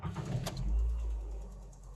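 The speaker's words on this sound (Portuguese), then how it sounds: "o motor está dando uma leve falhadinha" A Nissan Livina 1.8 engine idles with a slight misfire, a steady low rumble that swells after a brief sharp click and holds close and alone without speech.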